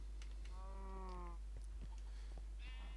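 Blocky cattle on a Minecraft cow farm give a drawn-out, wavering moo near the middle, with a few game clicks and soft tones around it and no talking.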